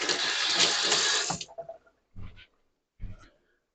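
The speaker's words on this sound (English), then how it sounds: "Wash my hands, a little sticky." A kitchen tap runs steadily for a moment while sticky hands are washed, then stops, followed by a few soft clunks and small handling sounds nearby.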